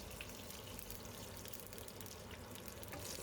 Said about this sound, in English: A handful of curry leaves go in. Let them sizzle away a bit.